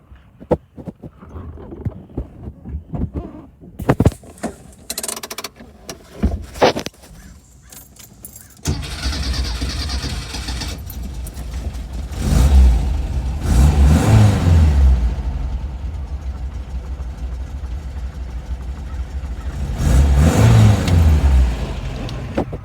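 A 1971 Porsche 914 with a 1.8 liter replacement engine: keys jingle and the starter cranks in short bursts, then the motor catches and settles into a rumbling idle, with two strong revs swelling and falling back, close and loud.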